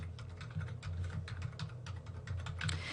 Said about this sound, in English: she's just typing it exactly the way you see it on the resource